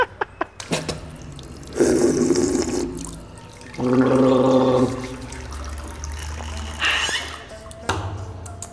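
Bathroom tap water running in short bursts, several separate gushes of a few seconds each with small clinks and drips between, fairly close.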